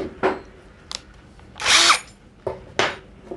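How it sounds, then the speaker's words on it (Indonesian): A Nagawa hammer drill with a 16 mm bit whirs in several short bursts, with one longer, louder run in the middle, separated by brief pauses. "Kemudian kita akan coba dengan mata bor yang 16 mili."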